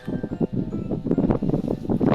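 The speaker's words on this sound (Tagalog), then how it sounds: "Ay, lakas ng hangin." Gusty wind buffets the microphone in low, rumbling bursts during a fishing trip, with rustling noise rising and falling throughout.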